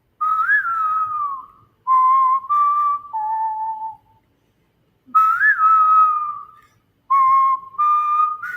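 A clear, close whistled melody in several phrases, with short pauses between them and no talking.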